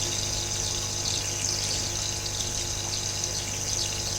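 Water steadily pouring into a home aquarium as it refills, a constant loud rushing and gushing with a low pump-like hum underneath, unbroken and close by with no talking.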